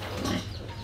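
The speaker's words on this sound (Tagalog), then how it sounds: "Ito po naman yung ating isang baboy" A pig being cleaned in its pen gives a short, low grunt close by, a single brief snort.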